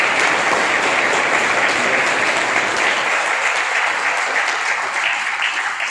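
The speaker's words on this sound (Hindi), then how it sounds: "ताली बजा के अपने मदर फादर के लिए।" Sustained, dense applause from a medical college orientation audience clapping for their parents, loud and steady throughout with no talk over it.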